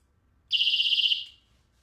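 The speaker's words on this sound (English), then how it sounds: "Security alarm." A toy security alarm from a mermaid-themed girls' defense set gives a single shrill electronic beep-tone, loud and steady for about three-quarters of a second before trailing off, with no voices.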